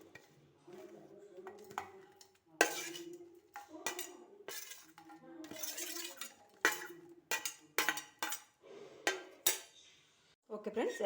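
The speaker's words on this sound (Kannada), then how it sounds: "ಈಗ ಇದನ್ನು ಒಂದು ಮಿಕ್ಸಿ ಜಾರಿಗೆ ಹಾಕ್ತೇನೆ." Pumpkin peel chutney being put into a steel mixer jar, with faint scattered clinks and clatters of utensils, some sharp knocks, and soft voices between them.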